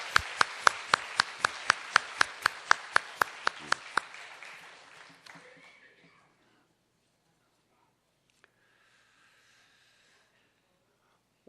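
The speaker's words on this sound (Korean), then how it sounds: "박수로 맞아주시기 바랍니다." A church congregation applauds to welcome a guest, with loud, evenly spaced rhythmic claps that gradually soften and fade out after a few seconds, leaving near silence.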